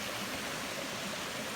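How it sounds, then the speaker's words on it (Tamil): A small stream runs down a mountain walking trail at Waterfall Gully near Adelaide, Australia, a steady, soft rushing of water with no pauses and no voices. "எங்கே பார்த்தாலும் வந்து ஒரு குட்டி அருவி ஓடிட்டே இருக்கு."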